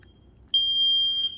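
A Platinum interval timer starting up gives one steady, piercing electronic beep that sounds close and loud and holds for nearly a second. A faint low background hum sits underneath it.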